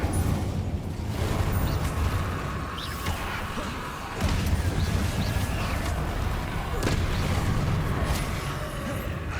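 Fiery spell blasts of Confringo and Incendio from the Hogwarts Legacy video game, with repeated whooshing bursts and crackling impacts over a dense, continuous game soundscape, loud and close throughout.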